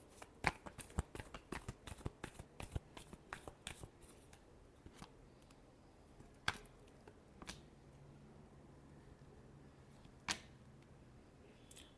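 Tarot cards are shuffled by hand at close range, a fast run of crisp riffling snaps for several seconds, then slower scattered taps and flicks, quiet and with no talk.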